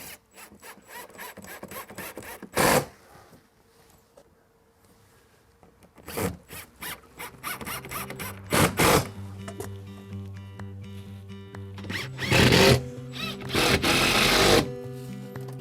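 25 by 4 mm screws are driven into the hinges of a garden gate with a power driver in short, close whirring and ratcheting bursts, separated by quieter handling pauses.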